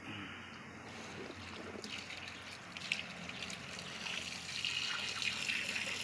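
Sand is rinsed under running water to clean it, giving a steady close splash and trickle that swells slightly toward the end, with no talk.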